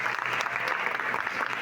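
A church congregation at a women's service claps together in a dense, steady round of applause that fills the room and carries on without a break.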